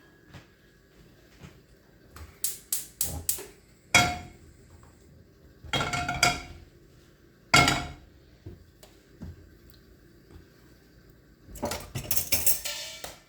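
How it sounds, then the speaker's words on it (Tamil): Eggs being beaten with chopped onion and green chilli for an omelette, heard as close, irregular clusters of sharp metallic clinks and taps against a bowl, separated by quiet pauses. "இப்போ இதை நல்லா பீட் பண்ணணும்."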